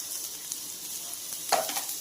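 Turmeric, chili, salt and cumin powder with capsicum being stirred in a frying pan for paneer shawarma give a steady soft sizzle with a brief scrape of the spoon near the end.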